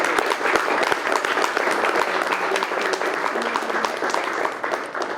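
A crowd at a public event on $1.1 billion of Baltimore school construction bursts into loud, dense, continuous applause that fills the whole stretch, close and sustained with no speech over it.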